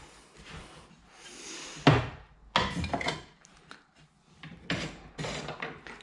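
A cheap manual tile cutter works on a tile, giving a series of sharp knocks, scrapes and snaps with short gaps between them. The sounds are close and fairly loud.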